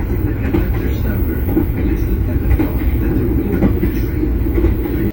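Tegal Bahari passenger train running, heard from inside a business class carriage: a steady, loud rumble of wheels on rail with faint clickety-clack, no talking.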